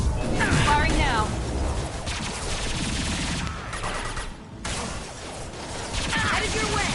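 Gunfire during combat in Mass Effect Legendary Edition, bursts of shots and impacts mixed with battle noise, fairly loud and continuous, with voices speaking over it.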